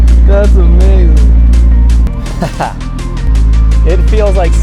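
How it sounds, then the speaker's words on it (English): A McLaren fitted with a secondhand eBay engine, driven with its roof off, gives a loud, steady low engine drone that dips briefly in the middle, while people talk over it. "It feels like so long since I've actually felt this car driving under its own power."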